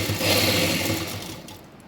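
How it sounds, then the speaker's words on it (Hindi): A sewing machine stitches salwar trouser fabric, giving a close, steady mechanical whirr that runs briefly and then fades slightly as it slows. "हमने सेम इस पार्ट को रखना है और उस पर सिलाई लगा देनी है।"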